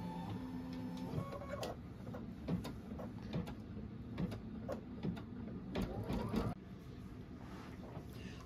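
A computerized quilting machine stitches in the ditch on a quilt, giving a steady mechanical hum with rhythmic needle clatter and occasional carriage movements, close and continuous with no talking.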